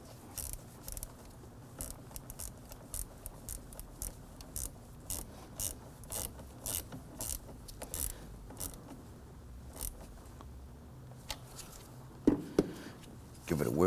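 Ratchet wrench clicking in short bursts as the battery ground terminal on a 2008-2011 Ford Focus is snugged down, close and fairly quiet, with a louder clank near the end.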